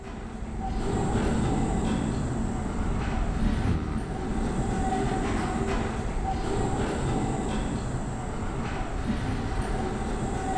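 A tram in Abiotic Factor rolls along with a loud, continuous rumbling drone, steady throughout with faint rhythmic clatters and a high whine riding on top.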